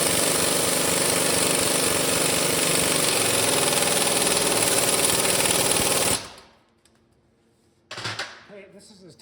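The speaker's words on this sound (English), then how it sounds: "this is as tight as it will go with the impact" Impact wrench hammering on Dana 44 differential bolts, a loud continuous rattling burst for about six seconds that stops abruptly, followed by a short second burst near the end.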